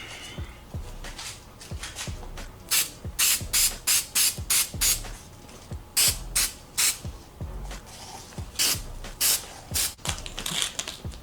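Repeated short bursts of spray adhesive from an aerosol can, hissing in quick irregular pulses with brief pauses and small clicks between them.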